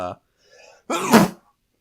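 A sharp, explosive sneeze bursts out close by after a brief vocal sound and a faint breath.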